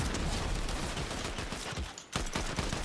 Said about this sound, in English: Oh, gunshots on me?